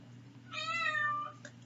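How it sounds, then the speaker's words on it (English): A cat gives a single clear, drawn-out meow indoors, fairly close and moderately loud against a low background hum, with no talk. "Oh, that's the cat."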